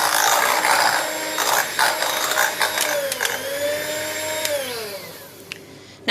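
An electric whisk beats rhubarb pudding batter in a bowl, a close, steady motor whir with rattling clicks against the bowl whose pitch dips and shifts as it works, then winds down near the end.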